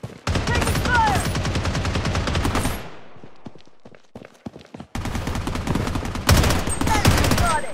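Rapid automatic gunfire in the mobile shooter Blood Strike, loud dense bursts that pause briefly in the middle and resume, then grow sharper at the end.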